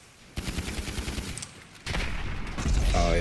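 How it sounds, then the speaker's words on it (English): Automatic pistol in GTA V firing rapid bursts, two rattling volleys of closely spaced shots, fairly loud and close, with a rising engine-like tone near the end. "Dude, this pistol is an automatic."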